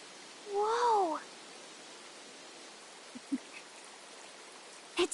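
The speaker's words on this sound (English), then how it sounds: "Running water nearby. Sounds like an open space. Could be a natural spring of some kind." A natural spring runs in Metaphor: ReFantazio as a soft, steady wash of flowing water that carries on throughout, with a brief voiced exclamation early on and a few quiet taps.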